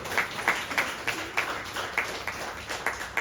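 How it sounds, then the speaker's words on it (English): Audience applause for the organiser at a Kimchi Day gathering at The Charcoal BBQ House, a short burst of scattered hand claps, moderately near and fairly steady, no speech. "give her a huge round of applause"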